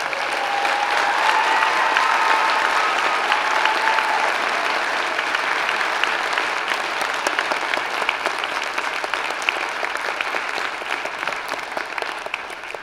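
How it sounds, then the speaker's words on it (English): Large convocation audience giving graduates a sustained round of applause, a thick, even wash of clapping that holds steady for the whole stretch with faint crowd murmur underneath. "Graduates, a round of applause."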